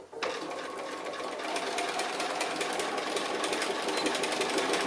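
A sewing machine back stitching a card wallet runs at a steady, rapid chatter, close and loud, from just after the start to the end.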